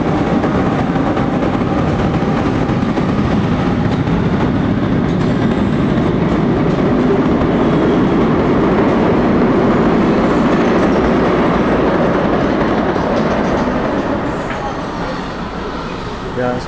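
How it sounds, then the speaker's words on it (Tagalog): An LRT train pulls into Balintawak Station, a loud, sustained rumble of wheels and rail clatter that fills the platform and eases slightly toward the end, with no speech. "parating na yung train na sasakyan ko"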